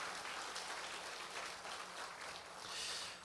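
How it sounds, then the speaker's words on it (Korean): A church congregation applauds its small-group members during a Korean worship service. Soft, steady clapping from the crowd carries on throughout, faint and somewhat distant. "우리 임마누엘 목장 모든 우리 목장 식구들을 위해서 한번 박수 한번 좀 다시 한번 보내주시면"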